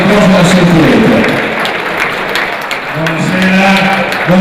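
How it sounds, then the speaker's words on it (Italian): A crowd applauds the regional volleyball federation president at an under-17 volleyball tournament final. Loud clapping runs throughout while someone talks over it. "a cui farei un applauso"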